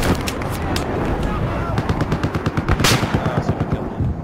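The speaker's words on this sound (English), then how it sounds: "Oh, look at all those rockets!" Helicopter rockets firing in a Battlefield 4 match, a fast string of loud blasts and rapid gunfire layered over constant battle noise, with a voice talking over it.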